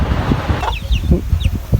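A chicken clucks close by in a few short, sharp bursts over a low background rumble.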